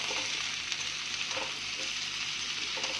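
Potato pieces and moringa drumsticks fry in oil with browned onion for a sour curry, giving a quiet, continuous sizzle with a few soft stirring clicks spaced through it.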